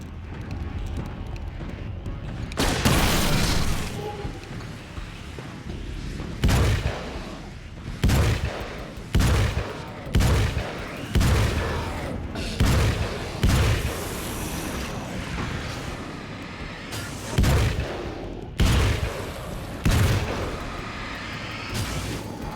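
Gunshots in the video game Alan Wake's American Nightmare, a string of loud booming shots spaced a second or two apart over a low rumbling ambience, with the occasional faint voice underneath.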